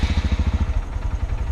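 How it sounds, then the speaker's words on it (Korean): Manual motorcycle engine started with the starter button while the clutch is held, the starter and engine catching in a rapid even chugging pulse up close, then settling into a rougher, uneven idle. "클러치 잡고 자세 잡고 이쪽에 보이시는 시동 버튼을 누르면 시동이 걸립니다."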